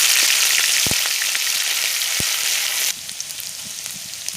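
Onion paste sizzles in hot mustard oil with garam masala in a wok, a loud steady frying hiss with two sharp utensil knocks, then the sizzle drops to a quieter crackle partway through.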